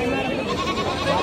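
Goats bleat amid the dense, steady din of a busy weekly livestock market in Kankol village, Sangareddy district, Telangana, where cattle and buffalo are also traded, with crowd chatter running throughout.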